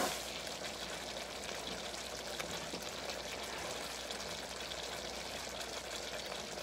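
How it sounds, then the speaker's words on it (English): Water pouring steadily into a pot of curry chicken stew, a continuous close splashing stream with no break and no talk. "I may need to add just a tad bit more water to it."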